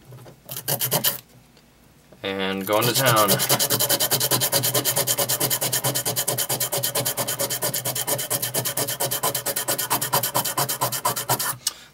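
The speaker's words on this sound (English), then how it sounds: "pretty much you just need to start sanding." Steady, rhythmic rasping of sandpaper scraped back and forth by hand over a Cold Steel knife handle, close and loud, after a brief spoken remark at the start.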